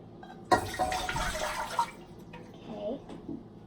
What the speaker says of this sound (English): let's start by placing the 3 cups of water